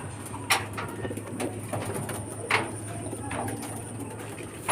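Racing pigeons coo softly at their loft, a low steady murmur with a few brief sharp knocks and rustles over constant faint background noise.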